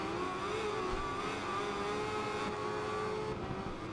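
Racing motorcycle at Alton Park, ridden in race 1, its engine held at a steady high-revving drone with a continuous loud whine that holds nearly constant pitch throughout, close and unbroken.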